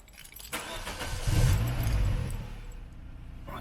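A Vauxhall Astra engine cranks and catches after a click, revs up loudly close by, then settles into a lower idle within a few seconds.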